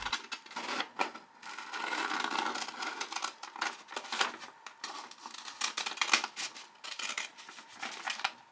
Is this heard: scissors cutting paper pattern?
yes